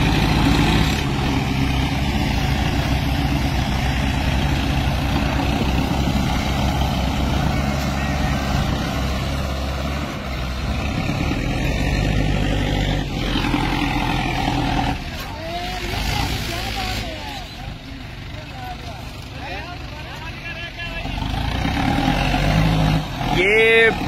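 Swaraj and Mahindra tractors race on desert sand, their diesel engines droning loud and steady with surges in revving as people talk over the noise.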